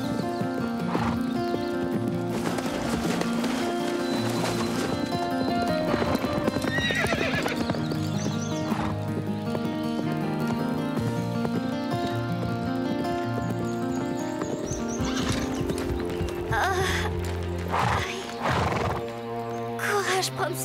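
Ridden horse clip-clopping in a steady rhythm of hoof beats, mixed with music and interrupted by whinnies, with people talking over parts of it.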